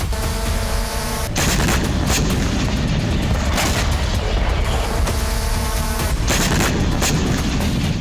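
Loud, dense booms and rumbling blasts from air strikes in Russia's Kursk region fill the sound continuously, with sharper impacts breaking through at intervals and no speech.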